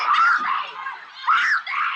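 Crowd of voices screaming together in a scene from Carrie, the musical or film, set in a school gym; sustained, loud, shrill shrieking with two swelling bursts.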